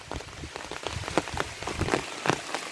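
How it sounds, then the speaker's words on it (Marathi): Rain falls on an umbrella and the ground along a path near a small village dam, a close, steady patter of drops with sharper individual taps scattered through it, with no voices. "हा बघा पाऊस"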